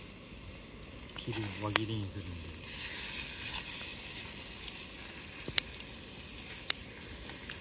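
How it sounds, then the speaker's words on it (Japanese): Food grilled whole over a campfire at a forest campground in Ono, Fukushima, sizzles steadily and softly throughout, with a few sharp crackles and pops, while someone speaks briefly near the start. "丸ごとただ焼くだけ。"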